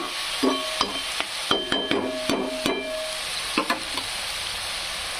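Red chillies frying in oil in a pan give a steady sizzling hiss. Sharp spoon clinks and scrapes break through it again and again as the chillies are stirred.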